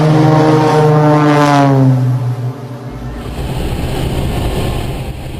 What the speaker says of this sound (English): IL-18D operated by Alata Transportes Aéreos performing a DHL cargo flight from Cabinda Airport in Angola.